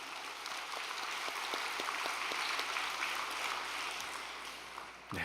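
Applause from an audience at a Korean church overnight devotion gathering, a steady broadband patter of clapping that fills the whole stretch at an even level, with scattered sharper claps and no talking over it.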